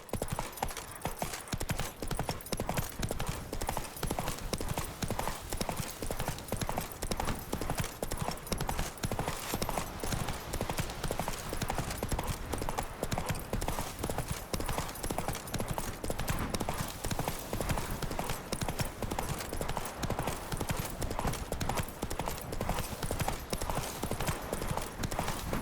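In The Witcher 3, the horse Roach's hooves clip-clop in a fast, steady rhythm over roughly 25 seconds. The sound is constant and fairly dense, with no break in the gait.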